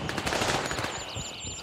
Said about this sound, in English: We're hearing a lot of gunshots.